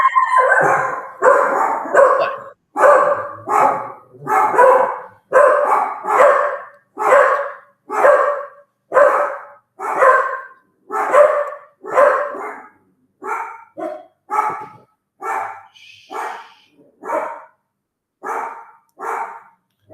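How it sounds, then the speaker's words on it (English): A house dog barking repeatedly to guard the home, a long steady run of loud, close barks at a regular rhythm, some stretching into howl-like yelps, with no talk over them. "My dog's protecting the house."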